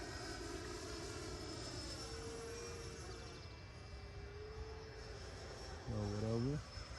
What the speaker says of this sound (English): I'm gonna give a little bit more power so y'all can hear that 12 blade 1950 kV motor in it.